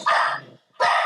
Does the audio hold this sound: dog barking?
yes